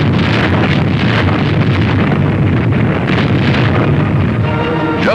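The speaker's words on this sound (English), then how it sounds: "We returned the fire." Naval guns of the Dragoon Task Force return fire on coastal positions in southern France during a 1944 World War Two battle, heard as a dense, continuous roar of blasts and rumble with wind buffeting, loud and sustained throughout.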